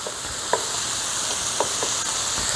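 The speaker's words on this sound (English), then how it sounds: "how can you go wrong with onions and the hamburger cooking together?" Ground beef and chopped onions frying together in a pan, a close, steady sizzle with a few soft scraping clicks from stirring.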